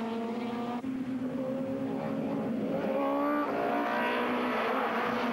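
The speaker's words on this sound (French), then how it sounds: "c'est finalement Dillmann qui prendra le meilleur départ" Supertourisme touring race cars, including a Peugeot 405, roar off the start at Ledenon circuit in 1996, several engines revving and climbing in pitch together, loud and sustained.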